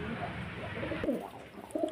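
Pigeons of the Phulshira line cooing nearby, soft low coos over a murmuring background, with a short burst of cooing toward the end.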